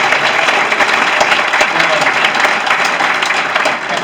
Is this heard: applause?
yes